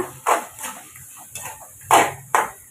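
A spoon scraping and knocking in a pot while dried-fish curry paste is stirred, four or five separate clanking strokes with short gaps between them, close and fairly loud, no talk.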